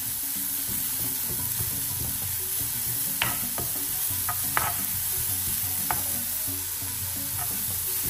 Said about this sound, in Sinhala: මේ ලුණු ටික හොඳට බැද ගන්න ඕනේ මෙන්න මේ ටික